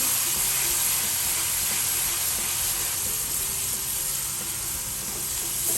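Chili and turmeric spice paste sizzles steadily in a hot pan while being stirred for a fish curry, a continuous close hiss with faint scraping underneath and no talking.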